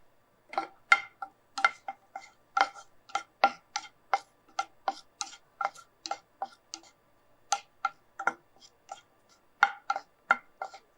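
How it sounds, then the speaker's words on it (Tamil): Tamarind is dry-roasted in a pan, and pieces tossed against the hot metal make dense, irregular clicking and ticking taps that carry on steadily throughout, close and clear with no talking. "நம்ம புளியை லேசாக ஒரு வறு வறுத்துக்கலாம்"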